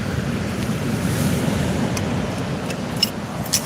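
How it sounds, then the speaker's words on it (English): Strong wind blows at the sea during kayak fishing, giving a steady, loud broadband rush and rumble like wind buffeting a microphone, with a few faint sharper ticks near the end. "it's really quite windy"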